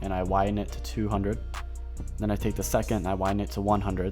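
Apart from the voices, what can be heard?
No everyday noises stand out.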